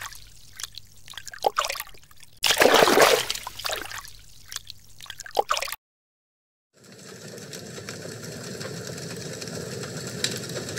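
Trickling water standing for a water element, a continuous soft liquid flow that starts after a short silence and runs steadily on its own, preceded by scattered clattering noises.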